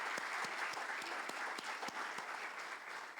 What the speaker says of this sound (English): Let's all applaud all these wonderful women here.